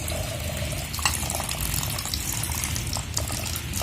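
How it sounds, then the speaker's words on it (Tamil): Water pours steadily into rava idli batter in a bowl with a continuous splashing, gurgling sound, close and fairly loud throughout. "நான் ஒரு டம்ளர் தண்ணி ஊற்றிருக்கேன்"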